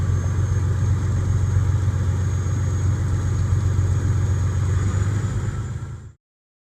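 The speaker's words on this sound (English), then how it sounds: "I'm going to give some throttle, bring my RPMs up to 1100" A truck's diesel engine runs at a steady 1100 RPM during a pretrip air brake test, a loud, constant low rumble with a faint high whine that holds evenly for about six seconds before cutting off abruptly.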